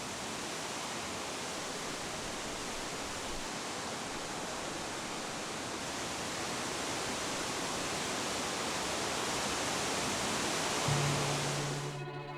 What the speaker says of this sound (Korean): 50m 높이에서 쏟아지는 하얀 물줄기.